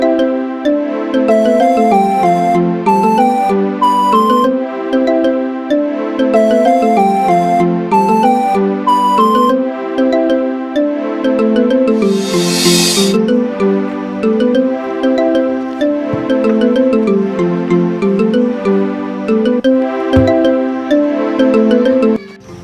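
A mobile phone ringtone plays loudly and continuously, a bright repeating electronic melody cycling over and over for the whole stretch with no voices over it.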